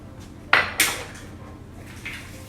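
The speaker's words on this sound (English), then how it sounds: "Then you're going to crack the other egg." An egg cracked against a mixing bowl while making a sliced peach cake with cinnamon sugar topping: two sharp close taps in quick succession, followed later by a faint clink, with no voices.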